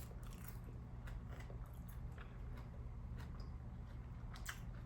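Biting and chewing a southwest chicken bowl, soft crunchy bites and moist mouth sounds repeating irregularly, quiet and close with a steady hum underneath and no speech.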